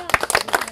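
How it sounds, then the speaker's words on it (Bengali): Hand clapping at a yogurt-eating challenge among village women: a quick, uneven run of several sharp claps, fairly close and loud, with no voices over them. "হাততালি শুরু।"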